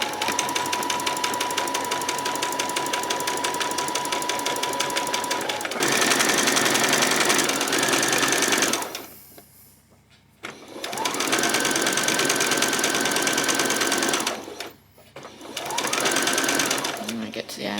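A sewing machine stitches elastic onto a peasant top in steady, loud motor-driven runs, first a lighter stretch, then fuller stitching bursts broken by two brief pauses, with a person talking throughout.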